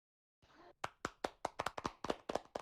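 A short round of clapping for a speaker at a virtual sports conference: about a dozen sharp, distinct claps in a loose rhythm, close and fairly few hands, after a brief faint noise.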